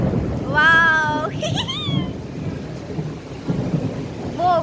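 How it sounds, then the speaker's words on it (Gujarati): Thunder rumbles through heavy monsoon rain during a storm, the downpour a steady broadband wash with a loud swell near the start; someone talks excitedly over the rain throughout. "હું કહેતી હતી ને વરસાદ આવશે તો તુફાનની હારે આવશે."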